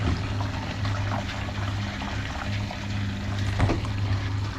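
Water leaking into a boat, a soft trickling and pouring under a low steady hum, with a brief splash near the end.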